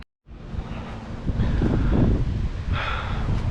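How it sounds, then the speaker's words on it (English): Steady wind roars and buffets close to the microphone, a broad rushing noise that swells slightly midway, with no voices. "it's super windy"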